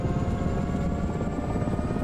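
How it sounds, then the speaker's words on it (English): Helicopter engines running in the DCS flight simulator, a loud steady droning whine with rhythmic rotor chop throughout, close and continuous. "Oh, the engines are starting."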